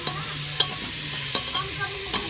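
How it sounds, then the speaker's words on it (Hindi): Turmeric, coriander powder and chili masala going into vegetables frying in a pan, giving a steady close sizzle with a few soft stirring scrapes and clinks. "इसमें हमने मसाला डाल दिया है"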